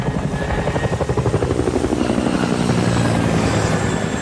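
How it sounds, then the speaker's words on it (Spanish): A large Chinook helicopter flies at low altitude with a loud, steady rotor thump. It is close and dense, with a continuous engine roar underneath and no voices. "Mark Holbrook oyó el sonido de un enorme helicóptero a baja altitud"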